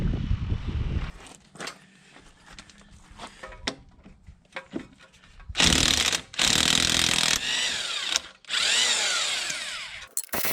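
A power tool, likely an impact wrench, works the lug nuts off a wheel on a 2003 Ram 2500 pickup, with loud repeated whirring bursts separated by pauses and some clunking handling sounds.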